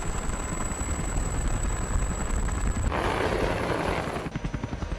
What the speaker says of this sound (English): This is the Airbus H225M, a combat-proven multi-role helicopter.